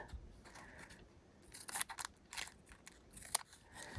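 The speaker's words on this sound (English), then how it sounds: "All I have to do is trim off my ends of my tape" Scissors trim the ends of homemade washi tape in a few quick, close snips, each a crisp cut followed by brief rustling, with no talk.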